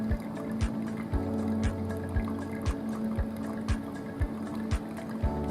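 Hot water poured slowly over coffee grounds in a hand-drip brewer makes a soft continuous trickle, with faint regular dripping ticks about every half second, quiet and close.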